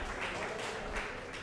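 An audience at an awards show open-mic event applauds a singer, a steady wash of clapping heard somewhat distant and moderately quiet, without pause.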